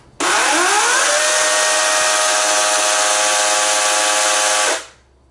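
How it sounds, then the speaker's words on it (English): Toro PowerPlex 14-inch battery chainsaw whirring up from a standstill into a loud, steady high-pitched run, then cutting off abruptly as the trigger is released. "to get it going, you simply pull the chain brake back, hold in the trigger lock,"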